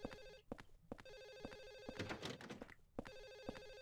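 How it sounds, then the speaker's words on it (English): A telephone in the Silent Hill 4 video game rings in repeated electronic trills, loud and steady, broken by sharp clicks and a burst of noise in the middle, with no talking. "Answer the fucking telephone. I'm trying. It's ringing off the hook, Jesus."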